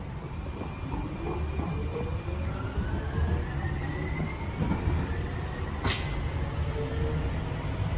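Steady low rumble of a Portland light rail train heard from inside an empty car, with rolling wheel noise, faint rising and falling whine tones and a brief brighter squeal or hiss near the end, continuous and fairly close.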